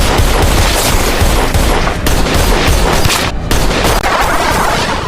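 Sustained gunfire in a tense film shootout, a loud, dense barrage of shots and booms that barely lets up, including shotgun blasts, with no voices over it.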